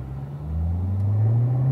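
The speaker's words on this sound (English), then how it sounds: "So you got 3 cars coming by you, Doug." Cars on a wet race track during a rainy session, a low engine rumble swelling as a car approaches and passes, steady and fairly close over a short stretch.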